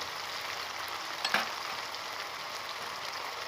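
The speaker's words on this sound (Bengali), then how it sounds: "ভালো করে আদা রসুন ভাজার পর আমি এখানে দেবো মশলা" Ginger and garlic fry in hot oil for a festival-style leafy greens dish, giving a steady, soft sizzle with a brief louder crackle partway through, likely as ground spices go into the pan.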